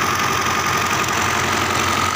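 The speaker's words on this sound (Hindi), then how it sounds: "फाइनल ट्रैक्टर स्टार्ट हो गया बड़ी मेहनत के बाद।" A 2000-model tractor engine runs loud and steady right after a hard start, with a rough, throbbing idle and knocking vibration. It carries on without pause and no voices are heard.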